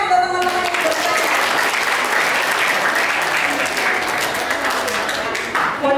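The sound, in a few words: audience applause for the participants who asked questions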